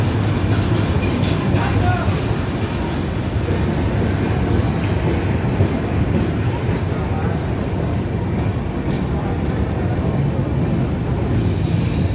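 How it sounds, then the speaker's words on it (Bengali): Broad-gauge Sagardari Express train rolling into Ishwardi Junction at night, a continuous close, heavy rumble with soft wheel clatter on the rails and a hissing wash over it, steady from start to finish. "সাগরদারি এক্সপ্রেস মূলত খুলনা থেকে রাজশাহীকে চলাচল করে থাকে এটি মূলত একটি ব্রডগেজ ট্রেন এই মুহূর্তে প্রবেশ করছে ঈশ্বরদী রেলওয়ে জংশনের"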